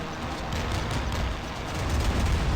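A torpedo strikes a warship in the Modern Warships naval video game, producing a continuous, loud, rumbling explosion that fills the whole moment and swells slightly toward the end.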